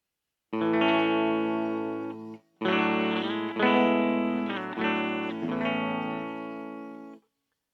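Electric guitar plays a few sustained chords through a cheap practice amp on a clean tone with reverb off, each ringing out with short gaps between them.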